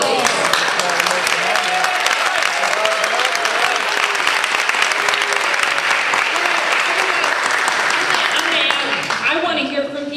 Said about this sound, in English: it's very nice to have the applause back and forth